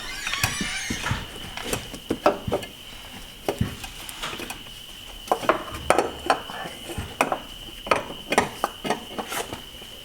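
An oil filter on a car is screwed back onto its mount by hand: irregular metallic clicks and scrapes come and go close by, with a steady faint whine behind them.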